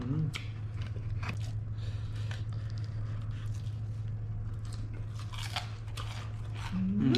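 Crunchy bites of Korean fried chicken, close and repeated through a steady low hum, with muffled chewing and talk around them.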